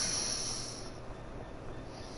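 Train passing in the Train Sim World 3 Edinburgh–Glasgow route near Haymarket, a soft broad rumble with a brief high hiss at the start, faint and steady, no talk.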